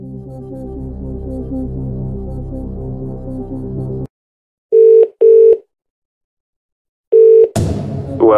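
Phone-a-friend call in the Who Wants To Be A Millionaire family edition DVD game: a music bed cuts out, then three short, loud dialing tones sound one after another, followed by a brief burst of music.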